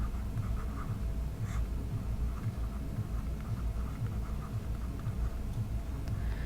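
Chalk or marker writing on a classroom board during a Hindi literature lesson, steady faint scratching strokes with a few taps, no speech.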